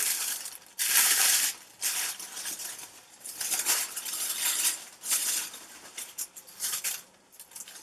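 Crinkly plastic and paper rustling in bursts as a packaged beauty product order is opened, close and fairly loud, with scratchy tearing and handling sounds through a quiet room.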